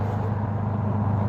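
Steady road traffic rolls past outside a coffee shop, a continuous low engine rumble and tyre noise without distinct passing vehicles and with no talking.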